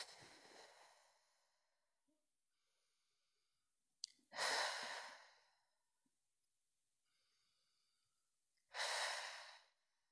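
Slow, deliberate breaths in through the nose and out through the mouth during a daily energy routine, close and audible, with long breathy exhales separated by quiet pauses.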